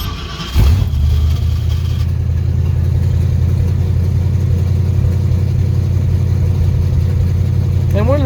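A Shelby car engine cranks and catches, then settles into a loud, steady, rumbling idle close by, with a voice talking over it.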